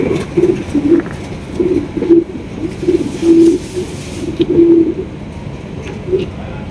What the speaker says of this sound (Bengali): এটার নাম হচ্ছে আপনার স্ট্রেচার স্প্যানজেল স্ট্রেচার কবুতর